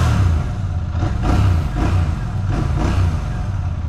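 A Royal Enfield Bear 650 parallel-twin motorcycle's stock exhaust rumbles up close, the 270-degree-crank engine revving in several rising and falling pulses over a low, lumpy idle.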